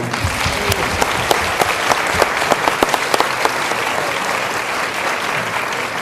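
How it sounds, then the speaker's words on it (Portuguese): A theatre audience applauding loudly and continuously after a stage performance, dense clapping with a few sharper individual claps standing out near the front. "Vamos dar um aplaudir ao Paulo, por favor."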